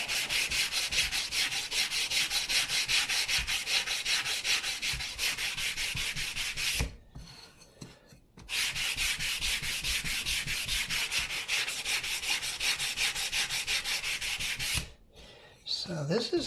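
Wooden internal braces being sanded by hand with 220 grit sandpaper: steady, loud back-and-forth rubbing strokes in two long runs, each broken by a brief pause, with no talking.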